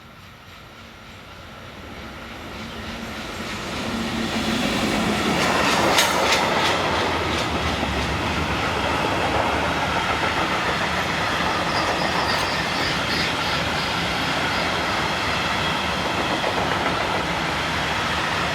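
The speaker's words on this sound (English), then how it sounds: "Class 77, number 247026, heads south on a Duisburg Mannesmann to Flandersbach empty lime hoppers" A Class 77 diesel locomotive hauls a southbound train of empty lime hopper wagons from Duisburg Mannesmann toward Flandersbach, a steady rumble rising as it nears, then continuous wheel clatter and rolling noise close by, with no voices.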